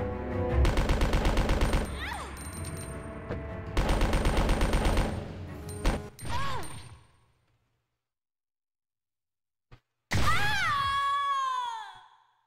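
Rapid automatic gunfire from a machine gun in the classic Resident Evil 2 video game, in two loud sustained bursts, a short pause, then a final burst mixed with groaning creature sounds.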